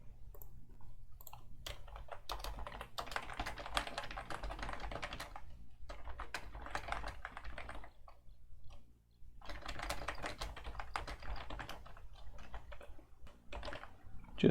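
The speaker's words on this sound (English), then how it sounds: "I'm in fact just going to go and type something quickly" Fast typing on a computer keyboard, close and fairly quiet, in bursts of rapid clicky keystrokes separated by short pauses, with no voices.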